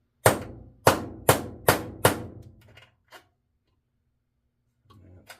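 A stud is driven into an ABU Garcia Ambassadeur Royal Express 3 fishing reel by tapping a small socket. Five sharp, evenly spaced metallic taps sound close up, followed by a couple of faint clicks and soft handling noise.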